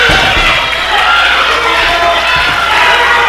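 A loud crowd at an Anarchy Wrestling show cheers and shouts continuously, a dense roar of voices with whoops and a couple of dull thuds beneath, close and sustained throughout.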